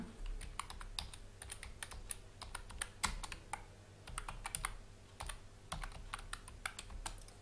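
Keys clatter in irregular bursts as someone types on a computer keyboard while editing a converted Word document, close and steady with brief pauses between runs of keystrokes.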